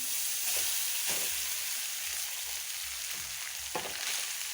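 Cooked rice for pepper rice is stirred in a frying pan: a soft, continuous sizzle is broken by repeated scraping strokes of a spoon against the pan.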